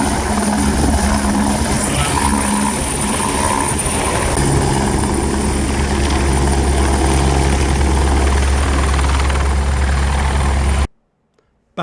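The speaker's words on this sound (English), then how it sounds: "this lovely private helicopter came in from Yorkshire for a rotors running hot refuel." A private helicopter from Yorkshire arriving at an airfield for a rotors-running hot refuel, its loud, steady rotor thump and turbine whine continuous and close, then cutting off abruptly near the end.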